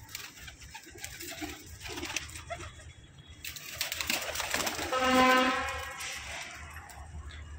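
Pigeons being shown by a fancier, soft low cooing calls scattered through a noisy background, with a louder passing rumble and a brief harmonic tone near the end; faint voices murmur at times.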